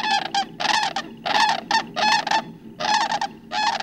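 Loud, rattling bugling calls of sandhill cranes at Grays Lake in spring mating season, repeated in bursts with short pauses between them, close and clear with no talking.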